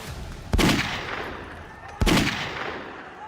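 Two sharp, loud gunshots ring out about a second and a half apart during a riot in Jahangirpuri, Delhi, each followed by a long echoing tail outdoors.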